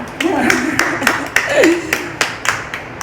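Applause at a women's haldi-kumkum gathering held at a police station, a small group clapping in uneven bursts close by, with voices murmuring beneath.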